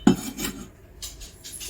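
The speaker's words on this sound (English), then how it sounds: "So we need to add the tofu and mushrooms now." Tofu and mushrooms go into a pot of Tom Yum soup: a soft thump as they land, a brief scrape and clink of a utensil against the pot, then a few faint rustling touches in an otherwise quiet kitchen.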